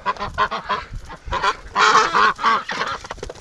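A Muscovy duck calls in a rapid series of short, rough honking bursts, close and loud, with brief pauses between clusters and no talk over it.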